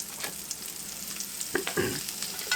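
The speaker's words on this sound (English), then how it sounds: "So now I'm going to add my onions to caramelize." A whole Vidalia onion goes into bacon fat to caramelize, raising a constant close sizzle with a few sharper pops and a brief scrape of stirring near the end.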